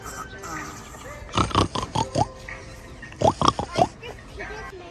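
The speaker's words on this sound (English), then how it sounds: "What do pigs do, Katara?" Pigs on a farm in Pattaya give rough, throaty grunts and oinks in two bursts of several calls each, close by and clear over steady background noise.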